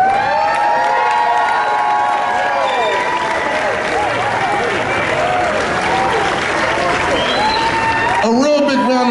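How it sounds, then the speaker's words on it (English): A crowd at a Walk of Fame honorees ceremony applauds and cheers loudly for Patti LaBelle. Whoops and shouted voices rise and fall over dense clapping, continuous throughout and with a burst near the end. "A real big round of applause for this Patti LaBelle"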